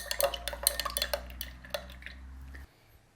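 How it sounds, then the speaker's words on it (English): A vat of green woad indigo liquid is stirred, with quiet clinks and scrapes of a utensil against the container. A steady low hum sits underneath and stops abruptly near the end. "we might start giving this a little bit of a stir"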